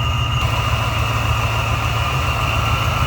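A 1994 Chevrolet Caprice 9C1 with a V3 Vortech supercharger and cold air intake idles steadily, a close, even mechanical drone with a constant low rumble and no talking.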